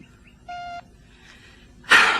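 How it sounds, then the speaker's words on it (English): A single steady electronic answering machine beep, short and clear, follows a faint voicemail greeting tone and precedes a burst of noise as the caller begins. "Please wait for the beep and leave a short message."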